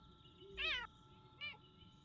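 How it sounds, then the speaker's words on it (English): A cat meows twice in an upset tone, a longer rising-falling call followed by a shorter one, fairly close over faint background hum. "that is a upset cat"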